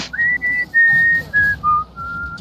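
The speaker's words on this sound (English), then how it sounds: "I love that whistle so much." Proto Man's whistle theme from the Mega Man video games plays as a clear, solo whistled melody of about seven sustained, pitched notes that step downward, each note separated by a short gap.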